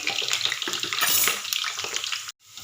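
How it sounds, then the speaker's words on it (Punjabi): Whole bitter gourds (karela) fry in hot oil with a bright, steady sizzle and crackle, broken by soft stirring scrapes, before the sound cuts out abruptly near the end. "ਇਸ ਕਰਕੇ ਮੈਂ ਇਹਨੂੰ ਸਾਬਤ ਕਰਾਂਗੀ ਫਰਾਈ"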